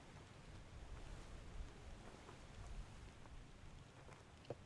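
Worsening rain in the video game Return of the Obra Dinn, a soft steady wash of rainfall with faint sea-like rumble beneath and a few scattered drops, quiet and unbroken throughout.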